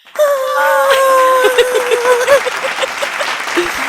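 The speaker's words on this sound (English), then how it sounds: "Insert claps here." A drawn-out whooping cheer gives way to a brief patter of clapping, like a short canned round of applause.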